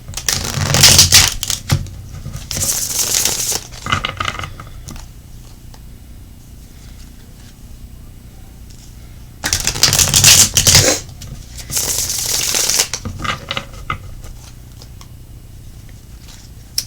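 Two bursts of a tarot deck being riffle-shuffled, each a few seconds long with a crisp rapid flutter, separated by quieter pauses.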